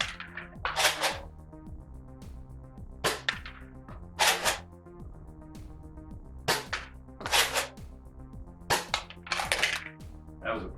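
A Star Wars First Order Deluxe Stormtrooper toy blaster fires foam darts in a series of sharp, snappy pops spaced a second or two apart, each followed by a brief clatter, close and fairly quiet with no talking.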